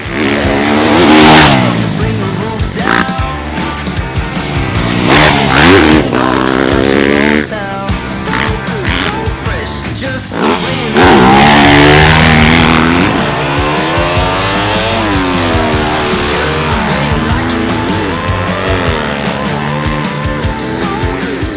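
A 2022 Yamaha YZ250F motocross bike blasts through repeated race starts, its engine revving hard and climbing through gears in loud, close bursts that rise and fall over about twenty seconds.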